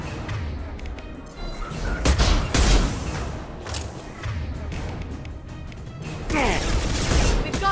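Gunfire in Mass Effect 2 crackles in loud bursts amid impacts and crashes, with a heavier thudding volley midway and another toward the end, while voices call out over the combat.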